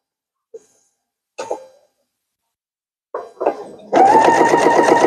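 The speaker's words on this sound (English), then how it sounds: "So now I'm just going to come and keep stitching." A sewing machine stitches a fabric gift bag: after a few scattered taps and handling noises, the motor starts up close and loud into a steady, fast, even whirring run.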